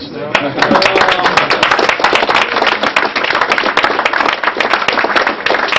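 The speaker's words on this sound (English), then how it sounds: "Round of applause." Loud, dense applause from a crowd, sustained clapping throughout with a few voices mixed in.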